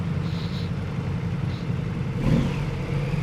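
A motorcycle engine rumbles steadily nearby, with a brief rev that swells and fades near the end, heard over wind noise.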